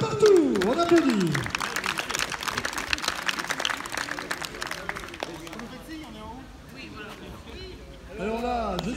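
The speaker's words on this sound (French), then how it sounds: "on applaudit." Spectators applaud at an outdoor pelota match during a tournament final, a dense patter of clapping mixed with crowd murmur, loud at first and then thinning, with a voice over a loudspeaker.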